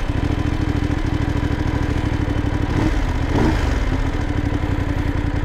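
A Voge 900 DSX motorcycle engine idles loudly nearby with a steady, rapid thumping rhythm, briefly revving slightly midway before settling back.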